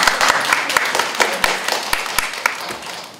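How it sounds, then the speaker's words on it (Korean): Audience applause at a Korean culture-careers talk concert: dense, steady clapping from a crowd, fairly loud and sustained throughout with sharper individual claps popping out. "큰 박수로 맞이해주세요."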